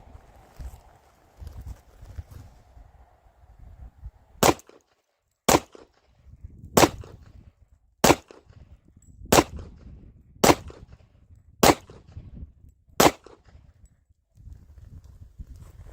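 A Tisas Yukon 10mm pistol fires eight loud, sharp shots at a steady, unhurried pace, about one per second. Quiet handling noise sits between the shots and before and after them.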